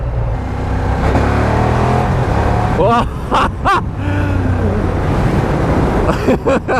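A Ducati Diavel Dark motorcycle accelerates hard at full throttle, its engine note rising loud and close in repeated surges with wind rush, gear changes and brief revving bursts near the end.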